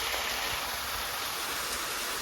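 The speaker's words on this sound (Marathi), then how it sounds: "पाणी कंटिन्यू येतं पाणी कधी थांबत नाही या मुखामध्ये" A constant hissing rush of water falling from a spout into a temple tank in Konkan, steady and unbroken throughout.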